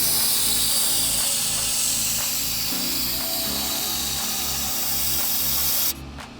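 Rust protection coating hisses steadily from a spray can onto a vehicle frame at close range, a loud, continuous spray that cuts off abruptly near the end.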